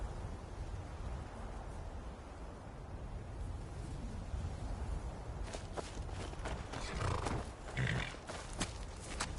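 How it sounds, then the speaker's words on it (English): Horse in a fantasy video game, faint hoofbeats and shuffling over low ambient noise, with a few soft whinnies and clip-clops near the end. "Man like you needs a war horse, I reckon."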